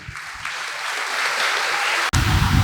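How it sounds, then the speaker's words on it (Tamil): An audience at an inaugural function gives a speaker strong applause, a dense sustained clapping that swells steadily, briefly cuts out, then resumes loudly. "நம்முடைய நன்றிகளை பலத்த கரகோஷத்துடன் தெரிவித்துக் கொள்வோம்"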